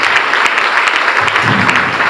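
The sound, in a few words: congregation applause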